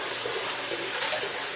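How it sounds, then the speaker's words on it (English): A safety razor head is rinsed under a running faucet, a steady close splashing hiss of tap water that holds for the whole moment. "And I run it under the water."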